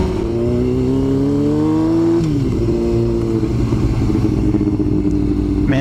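A Yamaha R6 sport motorcycle engine hums loudly and close, its pitch rising steadily then dropping and settling into a steady drone, heard from riding on the road.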